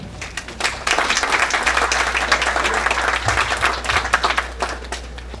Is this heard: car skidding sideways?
no